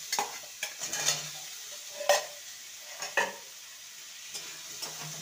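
Fried potato pieces are stirred with spices in a pan for a dhaba-style potato curry, giving a quiet underlying sizzle and a series of sharp, spaced scrapes and knocks of the spoon against the pan.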